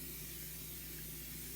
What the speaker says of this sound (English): So when we spray a pan, when you're baking anything like this, you got to make sure you're doing this really good